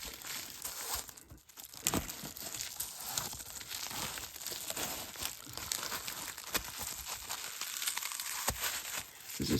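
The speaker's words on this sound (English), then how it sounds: "I wrap up my PSA cards in an extra layer of bubble." Bubble wrap crinkles and rustles close up as PSA graded trading cards are wrapped in an extra layer for shipping, with irregular crackling bursts and scrunching at a quiet level.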